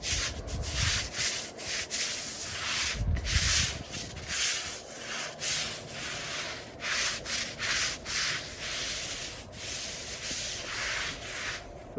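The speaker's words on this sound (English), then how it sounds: "Now we're going to put this on with a stiff brush." A stiff brush scrubs a brick pathway outdoors with rough, rasping back-and-forth strokes, loud and close, repeating in an irregular rhythm for several seconds with no talking.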